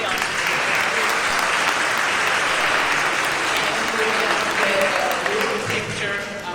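Sustained applause from an audience at an orchestra event, dense and steady throughout, with faint voices mixed into the clapping.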